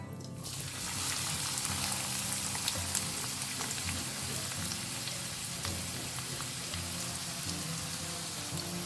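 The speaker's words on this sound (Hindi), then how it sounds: "तो तेल यहाँ पे अच्छे से गर्म हो चुका है। तो अब इसमें डालते हैं प्याज।" Finely chopped onions hitting hot oil in a kadai, a steady dense sizzle that starts abruptly after a brief quiet moment and continues evenly at moderate volume with crackling pops.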